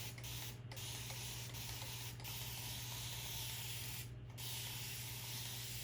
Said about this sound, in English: So I'm just going to spray.